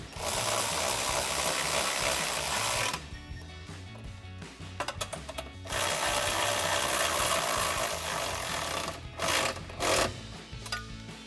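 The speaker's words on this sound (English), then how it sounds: "Now we can come back with our 13mm socket to tighten these down." A ratchet fitted with a 13mm socket tightens running board bracket bolts, giving long bursts of rapid, close clicking with short pauses and a few separate clicks between them.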